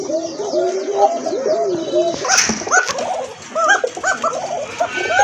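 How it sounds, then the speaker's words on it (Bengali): An Arabian koka pigeon coos up close, giving a run of loud, rhythmic, rolling calls repeated one after another with short gaps, along with a few faint background noises. "এটা হচ্ছে আপনার অ্যারাবিয়ান কোকা কবুতর, খুব ভালো ডাকে"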